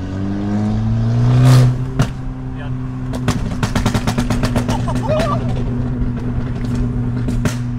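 Tuned Abarth engine revving through a full exhaust line, a steady loud idle drone broken by a sharp blip near the start and then rapid crackling pops and bangs from the exhaust, close and continuous.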